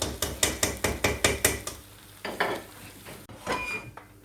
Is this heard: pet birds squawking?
no